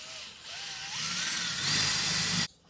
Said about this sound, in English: try to drill it straight.